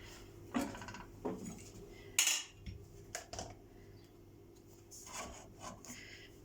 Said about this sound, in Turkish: Suflelerimizi pişirmek için tenceremizi ocağa alıyoruz.